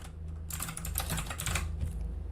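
Rapid clicking keystrokes on a computer keyboard, a dense close burst of typing over a faint low hum.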